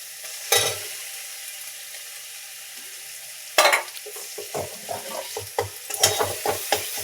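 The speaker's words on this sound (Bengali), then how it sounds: "আদা জিরে বাটাটা এর সাথে কষতে হবে।" Ginger-cumin paste frying with onion and garlic, a soft hiss broken by two sharp bursts as the paste hits the pan, then a run of close, rhythmic stirring scrapes.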